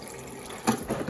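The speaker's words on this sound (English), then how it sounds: "I fill up a pan with some water" Kitchen tap running water into a pan for cooking shrimp, a short soft splash and trickle that swells briefly near the end, close and on its own.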